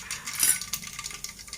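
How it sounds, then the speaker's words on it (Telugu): Mustard and cumin seeds crackle and pop in hot oil while tempering for a simple breakfast dish, a close, busy patter of small sharp spits and ticks with no talk. "అట్లా ఉండాలి, ఆయిల్ చిటపట్లు ఆడాలంటే."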